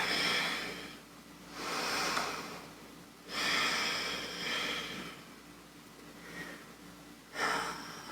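Deep, slow yoga breaths in a quiet room, a few long airy inhales and exhales spaced several seconds apart, close and fairly soft, with no talking.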